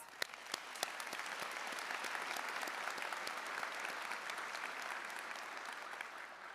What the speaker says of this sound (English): Let's give our security team a quick round of applause